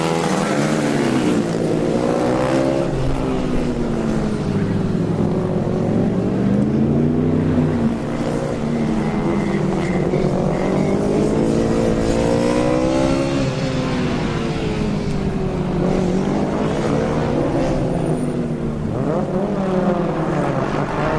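Formula Student race cars lap the endurance course, with a loud, continuous engine drone that rises and falls in pitch through repeated accelerations and gear changes, close by throughout.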